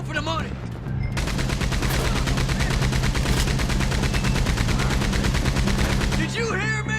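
Sustained rapid automatic gunfire from a mounted gun in Red Dead Redemption 2 during a train heist, loud and continuous for several seconds with brief quieter moments at the start and end.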